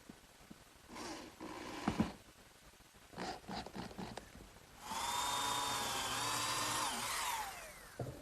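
A power drill drives screws into pine support blocks on a wooden chest-on-chest, with short bursts of whirring and handling knocks, then one longer sustained run with rising pitch near the end.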